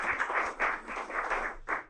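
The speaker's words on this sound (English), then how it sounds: "Round of applause" Studio audience applause, a dense wash of clapping with rhythmic swells, fairly close and filling the room on its own without talk.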